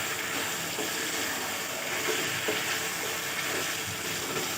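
Black pepper chicken with green chillies being stir-fried in a pan, a steady, close sizzle throughout with faint scraping of stirring, no voices.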